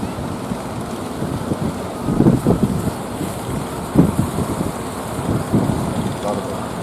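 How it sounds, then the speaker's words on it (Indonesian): Big waves wash and surge around a boat suffering engine trouble at sea, heard from on board as a continuous churning rush with heavy wind buffeting the microphone and periodic louder slaps of water. "Ombaknya besar guys."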